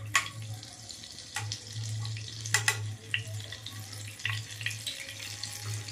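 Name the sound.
butter added to hot oil in pan, paneer butter masala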